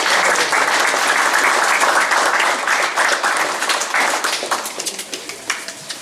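Audience at a supporters' meeting with KSM Krosno club officials breaks into loud, dense applause that holds steady, then thins into scattered individual claps and fades over the last seconds.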